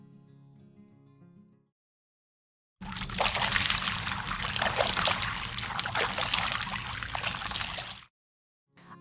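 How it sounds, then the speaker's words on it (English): Cold water runs from a tap in a short steady burst of trickling and splashing that lasts about five seconds, with quiet sounds before it and a brief sound right after it. "Ah, cold water."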